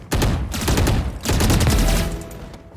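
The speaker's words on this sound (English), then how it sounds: "Phantom is the gun" Two sustained bursts of rapid automatic fire from a Phantom rifle in Valorant, loud and close, with a brief gap between them and the shots trailing off at the end.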